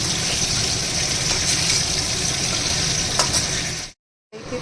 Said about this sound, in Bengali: একটু তেলটা গরম করে ফুলকপিগুলোকে এইভাবে ভেজে নিতে হবে হালকা আছে